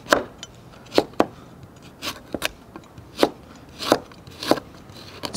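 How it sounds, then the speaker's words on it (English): Galangal root sliced with a knife on a cutting board: a series of sharp, irregular chops and taps, close and fairly quiet, with no talking. "Galangal, just gonna slice this up."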